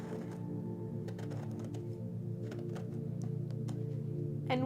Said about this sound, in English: we're going to take our paring knife, hold it tightly like so. You want to score it.